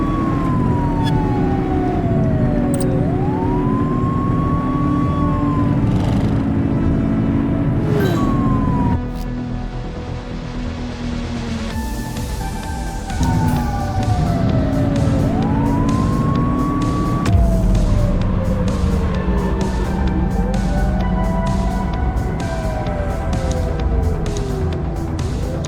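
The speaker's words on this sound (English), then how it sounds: "Looks like we're in for a police pursuit." Police car siren wailing in a chase in the video game The Precinct, a rising and falling electronic wail sweeping repeatedly over steady car engine rumble, loud and close, cutting briefly before resuming.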